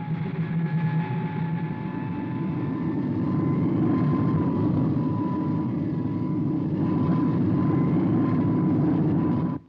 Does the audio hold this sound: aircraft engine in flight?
yes